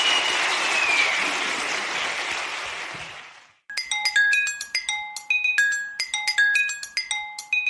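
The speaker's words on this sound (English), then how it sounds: "give these guys a big round of applause" An audience applauds loudly and steadily after a panel at a smart kitchen summit, then the clapping fades out and bright chiming electronic music notes follow.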